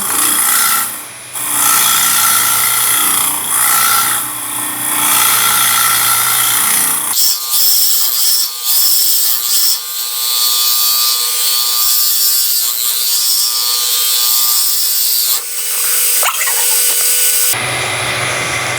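A Robert Sorby TurnMaster woodturning tool cuts into spinning wood, giving a loud, continuous rasping scrape that keeps going with small shifts in pressure and tone, with no voices over it.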